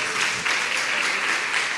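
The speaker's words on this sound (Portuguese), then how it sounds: "Aplauda ele também." A church congregation applauds steadily, with dense, even clapping from many hands filling the space throughout.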